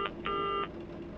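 An in-game phone call signal in the FNAF Lakes Funland video game: a short electronic beep, then a longer steady two-tone ring, fairly quiet and with no voices.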